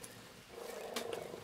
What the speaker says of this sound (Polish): O, o! Słyszę kotka.